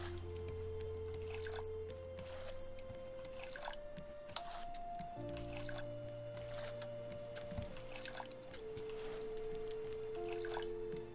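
Water fills a container in the video game Raft, heard as a steady trickling and dripping with rising bubbly tones, soft and continuous over a game background with occasional clicks.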